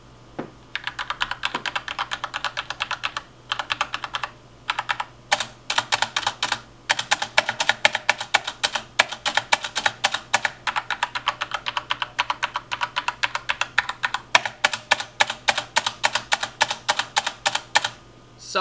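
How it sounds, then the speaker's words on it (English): Typing on a SteelSeries Apex M750 RGB mechanical keyboard produces loud, crisp key clicks in rapid irregular bursts, with short pauses and occasional heavier thumps, recorded up close with no talking. "So to give you an idea of the how loud it is,"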